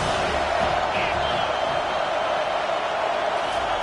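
A large football stadium crowd at Miami vs FSU roars in a steady, dense wash of cheering and shouting, loud and continuous throughout without individual voices standing out.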